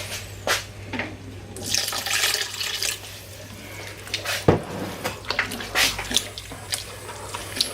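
Water runs from a tap in bursts for adding more liquid to a pan of cooking mince, splashing and gurgling close by with intermittent clinks and handling noises, no talk.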